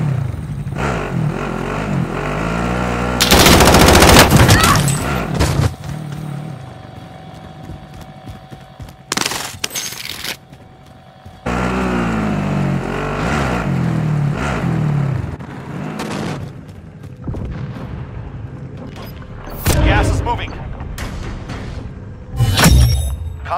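Gunfire bursts and vehicle engine noise from a Warzone match, with loud sustained rumbling broken by sharp repeated shots and a few abrupt pauses.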